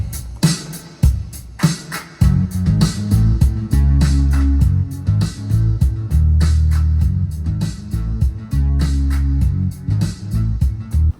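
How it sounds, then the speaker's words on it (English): Song demo playing a string bass line doubled by a fuzzy synth bass layer, with crisp percussion ticking over a thick, repeating low groove that starts sparse and fills out, steady and loud with no voices. "I added a synth bass called Moving Fuzz, and I just repeated the string bass line over it"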